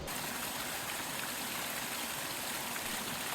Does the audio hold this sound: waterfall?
yes